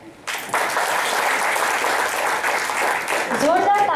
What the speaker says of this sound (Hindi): जोरदार तालियों से एक बार और इनका प्रोत्साहन करें।